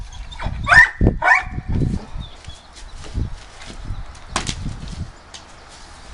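Several pet dogs crowd close together, making short scattered yips, snuffles and scrabbling paw clatter in quick bursts, loudest at first, then quieter and sparser.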